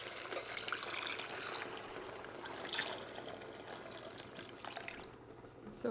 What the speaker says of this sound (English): And then I'm adding the marinade.